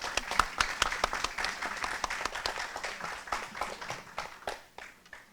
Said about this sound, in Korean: 우리 모두 박수 한번 좀 쳐 드려주셨으면